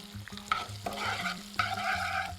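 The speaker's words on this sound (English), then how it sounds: "So let's get this garlic, fresh chili, right inside this hot pan." Garlic and fresh chili stir-fry in a hot pan, giving a steady close sizzle broken by repeated scraping strokes of a utensil, with no voices.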